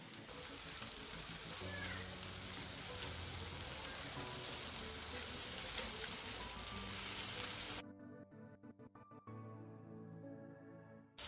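Turkish kofta meatballs sizzle steadily over a fire for several seconds with a dense, crackling hiss, then the sound cuts to a quieter, sparser sizzle near the end.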